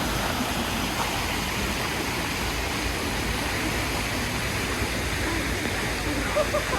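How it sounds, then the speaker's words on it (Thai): Continuous rushing water of a flowing stream beside a campsite forms a steady broadband wash throughout. "ติดแม่น้ำลำธาร"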